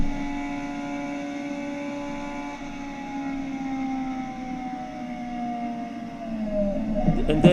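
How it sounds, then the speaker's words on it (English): Toyota Le Mans prototype engine in a racing simulator, a steady droning tone that climbs in pitch through the gears toward sixth, rising slightly in loudness near the end. "You go up the gears, up to 6th gear in our case, in the Toyota."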